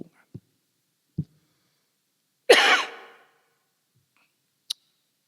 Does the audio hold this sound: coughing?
yes